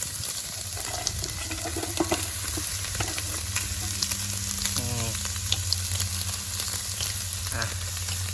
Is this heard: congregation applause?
no